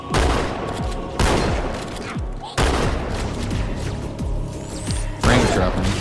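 Halo 2 campaign gunfire, including the shotgun, cracking out in repeated loud blasts roughly every second or so amid dense, continuous battle noise, with a voice talking over part of it.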